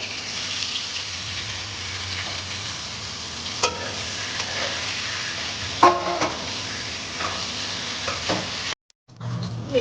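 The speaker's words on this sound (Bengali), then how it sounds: "এই তেলের মধ্যে আমি এই বেগুনগুলো একটু নাড়াচাড়া দিয়ে ভেজে নেব" Eggplant stir-fried in leftover fish-frying oil in a wok sizzles steadily, with scraping stirs and clatters of a spatula against the pan, ending in a brief drop to near silence.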